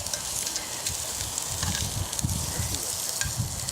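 Food sizzles and fries in a hot pan while pieces are being turned over, a steady crackling hiss with scattered pops and scraping stirs, close and fairly loud with no talk.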